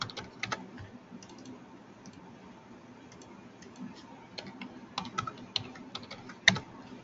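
Elevation values typed one by one on a computer keyboard, with quiet scattered key clicks in irregular bursts, faint and close in an otherwise hushed room.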